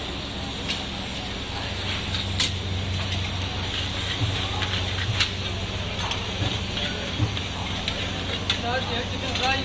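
Karahi frying at a street food stall in Rawalpindi, a steady moderate sizzle with scattered clinks and pops, busy street chatter in the background.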